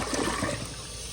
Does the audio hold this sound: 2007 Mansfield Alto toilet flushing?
yes